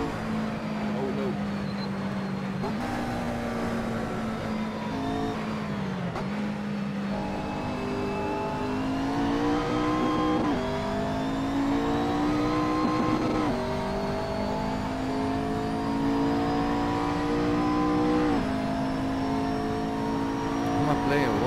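A truck engine droning steadily in the Assetto Corsa racing game, its pitch rising and falling through gear changes and revs over a long stretch, with a person talking over it.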